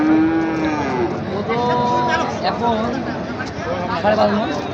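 Gir and Sahiwal bull cattle moo loudly and repeatedly on a farm, long low calls overlapping one another close by, with people talking underneath.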